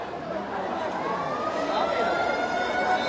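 A fire service vehicle's siren wails steadily as it approaches through a crowded neighbourhood at a building fire in Shewrapara, Mirpur, loud and continuous over the murmur of gathered people.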